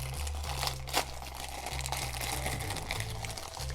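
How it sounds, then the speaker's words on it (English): Regular plastic cups are handled and pulled apart from a stack, producing a soft, close crinkling and crackling over a steady low hum, with one brief louder crunch. "I picked up some cups some time ago, just some regular old plastic cups."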